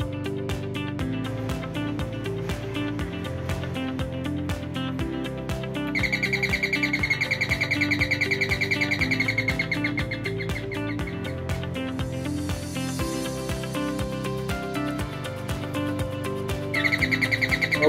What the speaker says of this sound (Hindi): चलिए अब साउंड सुनते हैं पैरोट डोरबेल से।